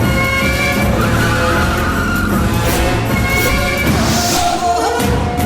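A car speeds off with loud screeching tyre skids and a hard-revving engine, the squeal rising and holding close and continuous throughout, with no voices over it.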